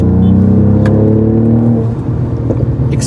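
A Mercedes-Benz GLE 43 AMG coupe SUV pulling hard on a road, a loud deep engine drone rising steadily in pitch as it accelerates, then easing off near the end, heard from inside the car.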